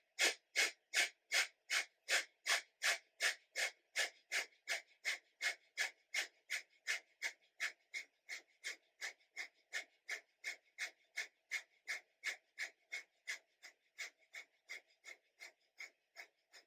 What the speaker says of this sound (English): then a half breath in, and then we'll start our breath of fire